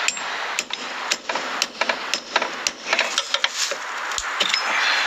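A hammer striking a nail in a series of sharp, close, irregular blows, some rapid and light and some heavier, spaced unevenly across a few seconds with little else around them.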